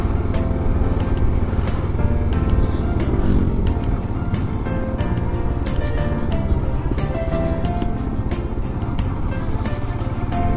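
A car drives along a winding mountain road beside a river, following another vehicle, its engine and road noise a constant loud rumble with repeated sharp knocks and rattles from the bumpy surface.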